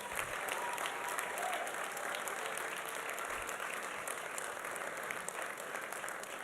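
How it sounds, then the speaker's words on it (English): Crowd applause at a union bargaining kickoff rally for Volkswagen workers, a steady dense wash of many hands clapping, moderately distant and continuous throughout with no break. "So let's give Jim another big round of applause."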